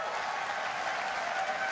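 Audience applause at the WWDC 2018 keynote, a dense, continuous wash of clapping from a large crowd that holds steady and loud throughout.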